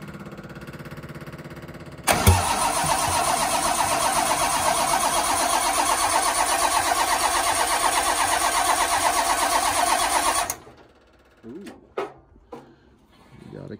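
A Cummins 6AT diesel engine fires up for the first time since a compression test: a sudden loud start, then roughly eight seconds of steady, hard-running mechanical roar that cuts off abruptly, followed by a few faint knocks and sounds.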